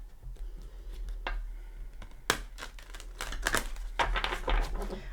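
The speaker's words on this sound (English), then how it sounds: "Give it a couple shuffles." An oracle card deck is shuffled close by, giving rapid, irregular papery riffles and slaps in clustered bursts over a low steady hum.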